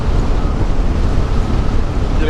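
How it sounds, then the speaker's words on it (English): Strong wind buffets the microphone in rough, low rumbling gusts, loud and continuous for a couple of seconds. "Whoa, a little windy."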